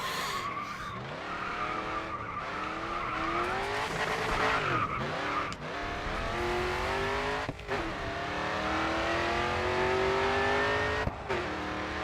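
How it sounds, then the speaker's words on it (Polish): Race car drifting and skidding around corners in the racing video game Grid 2, with a screaming engine revving and shifting pitch under steady tyre squeal, loud and continuous with brief drops between gear changes. "Będziesz musiał dodać gazu, żeby utrzymać drift."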